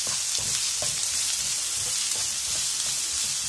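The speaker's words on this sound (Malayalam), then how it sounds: "ഇതിലേക്ക് നമുക്കിനി കട്ട് ചെയ്ത് വെച്ചിരിക്കുന്ന സവാള ചേർക്കാം." Chopped onion frying with chicken in a pan, a steady bright sizzle throughout with occasional soft stirring knocks, close and alone.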